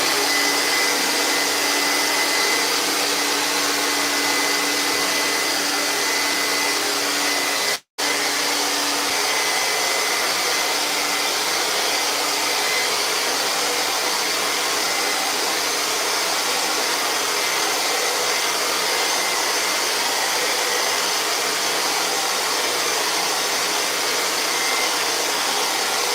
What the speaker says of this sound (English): I might stick the blow dryer on it just a little bit